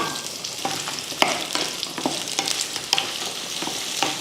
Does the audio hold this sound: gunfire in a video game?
no